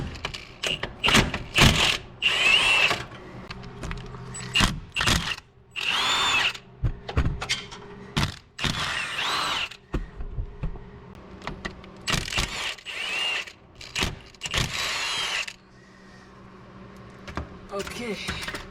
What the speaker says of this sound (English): When in doubt, impact it out.